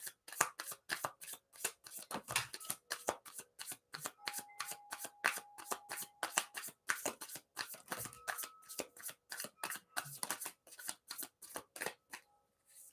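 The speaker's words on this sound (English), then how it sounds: "And Beverly, for you, we are getting some cards." Tarot cards shuffled by hand in steady rapid riffles, a long run of crisp repeated bursts with a few brief pauses, close and fairly quiet, with no talking.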